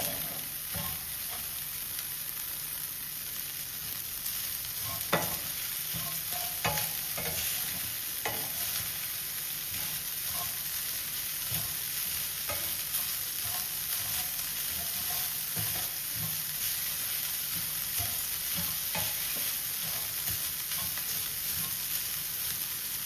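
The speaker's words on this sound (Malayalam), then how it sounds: "സവോളയും ക്യാരറ്റും ഒന്ന് ചൂടാവുന്ന അത്ര നേരം ഒന്ന് വഴറ്റിയെടുക്കുക" Onion and carrot sauté in a pan for upma with a steady hiss of frying, while a spoon scrapes and stirs in scattered clicks and taps throughout, close and moderately loud, with no one talking.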